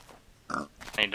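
Pigs oink in Minecraft, two or three short grunting snorts in quick succession, close and moderately loud.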